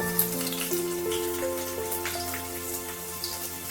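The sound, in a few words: chopped garlic sizzling in hot mustard oil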